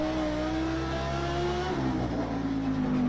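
An Audi V10 race car engine in Project CARS 2 revs loud and close at the Nurburgring, a naturally aspirated growling, wailing note that climbs steadily, dips at a shift and climbs again.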